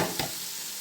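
Onions dropped into hot oil for a mushroom biryani, a brief stir and splash at the start followed by a steady, close sizzle of frying with no talk.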